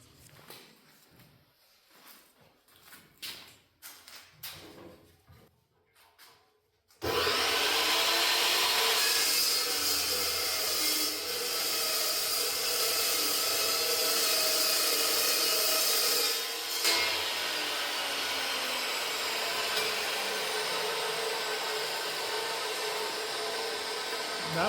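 A power saw cuts through 3/8-inch thick steel flat bar while building a welding table, a loud, steady grinding roar that starts abruptly after a few quiet knocks and runs unbroken for over fifteen seconds, easing slightly near the end.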